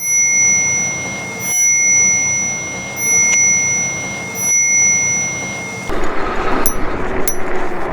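An Engwe E26 electric bike bell rings repeatedly in bursts, steady and close, with a rougher scraping rattle near the end as the bell touches something.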